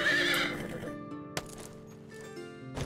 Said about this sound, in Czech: Já si zavolám koně.